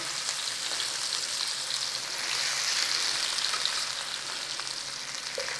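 Parboiled potato pieces fry in hot oil for a hobo casserole, giving a steady, close sizzle and crackle with no talk over it.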